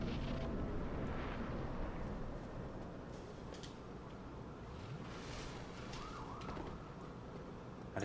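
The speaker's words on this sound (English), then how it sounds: "I just heard sirens." Sirens wail faintly in the distance within a Dark Souls 1 game scene, a rising and falling tone emerging over a rumbling, roaring ambient bed with no speech.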